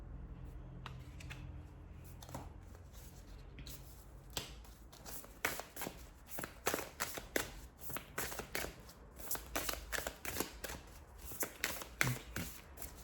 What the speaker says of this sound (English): I can't shuffle to save my life.